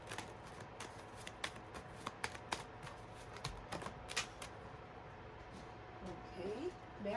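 Tarot cards shuffled close by, a quiet run of irregular soft riffling snaps and flicks spaced unevenly, with faint room noise between them.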